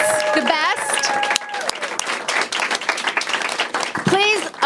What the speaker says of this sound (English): Please, a big round of applause for Elliot Hochberg